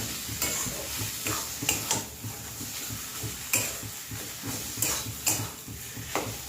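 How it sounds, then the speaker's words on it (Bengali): Potatoes fry in oil for an aloo paratha filling, a steady sizzle broken by repeated scraping and clanking as a utensil stirs the pan. "আলুটা তেলে যদি একটু ভালো করে ভাজা ভাজা করে নিই বন্ধুরা"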